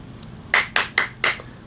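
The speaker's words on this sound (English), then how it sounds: "4 out of 5 claps" Four sharp single hand claps close to the microphone, evenly spaced about a quarter second apart, with a faint tap just before them and quiet room tone around.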